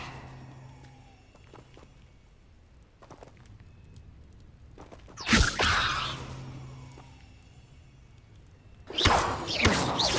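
In Hogwarts Legacy, Levioso levitation spells are cast in two sharp whooshing bursts several seconds apart, each with a bright crackling swish, over quiet footsteps and faint game ambience.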